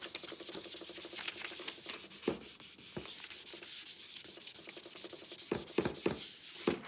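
Close, continuous scratchy rubbing comes from burnishing rub-on transfers onto a wooden welcome sign, with a few sharper scrapes and taps along the way.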